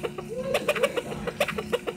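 Repeated short clucks from video game chickens over a steady electronic hum, moderately loud and fairly regular.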